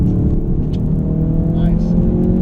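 A Ford Focus RS engine pulls hard under throttle on the Spa-Francorchamps circuit, a loud, steady in-car drone with a faint rising pitch, continuous throughout.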